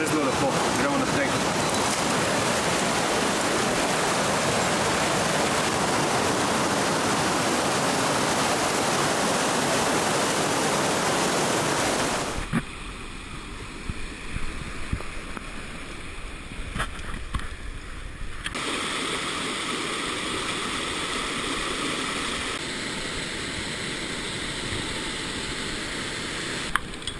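River water rushing over a rocky riverbed on a first descent, a loud dense roar for several seconds that drops to a calmer, softer flow with voices talking over it.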